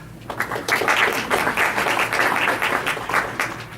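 Applause from a town hall audience in Illinois greeting the mayor of Lincolnwood, a steady patter of many hands close by that starts within the first half second and holds at an even level to the end.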